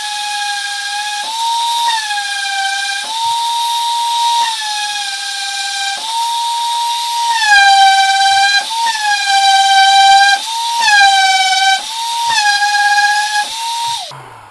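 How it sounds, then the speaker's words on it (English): A compressor's air blow gun blows off a humidity-damaged bathroom door being resealed, giving a series of loud, close whistling hisses in bursts with short breaks between them. "I'm just going to blow off with the compressor, see if I got it."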